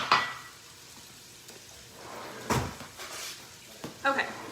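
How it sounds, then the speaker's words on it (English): Bacon sautéing in a pan for low-carb Zuppa Toscana soup: a faint, steady sizzle under the kitchen, broken by a few louder clatters and knocks of utensils and cookware, with a voice speaking at times. "we're sauteing the bacon"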